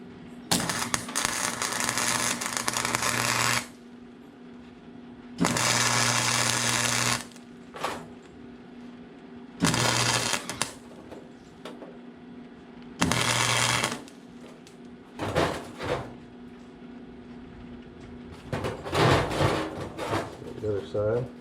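A welder welds front shock mounts on a 1989 Toyota pickup on air suspension, giving loud, close bursts of harsh buzzing crackle that start and stop several times with short pauses between them.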